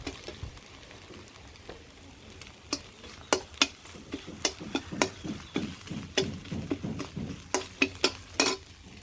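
An egg frying in a pan with a small amount of vegetables, steady sizzle broken by frequent sharp scraping and stirring strokes of a utensil against the pan, close and without talk.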